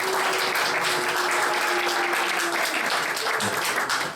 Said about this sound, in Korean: 새가족 팀 나와서 선물 전달할 때 우리 박수로